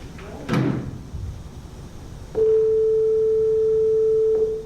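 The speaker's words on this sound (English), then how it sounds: "that's a sine wave at 440 hertz" A steady pure 440 Hz sine tone starts abruptly and holds for about two seconds, loud and unwavering, after a brief knock and faint background noise.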